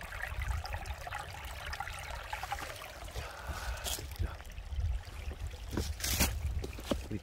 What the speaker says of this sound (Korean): 우리 마을의 실개천이 이렇게 졸졸졸졸졸졸